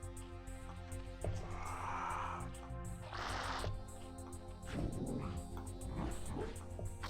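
Dog-like barking from Zerg creatures in StarCraft, several short yelps and barks over a steady droning game soundtrack, moderately loud and without speech.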